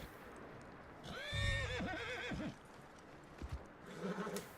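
A horse in the Red Dead Redemption II video game gives a loud, close whinny with a snorting tail, followed by quieter snorts and hoof sounds over ambient game background.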